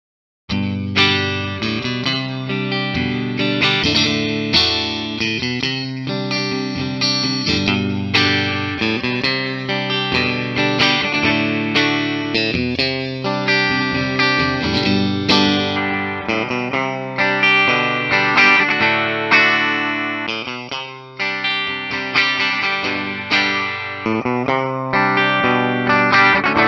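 Fender 70th Anniversary Stratocaster Ultra electric guitar in Amethyst played through an amp with effects, chords and lead lines ringing steadily and loud with chorus and distortion, alone for the whole stretch.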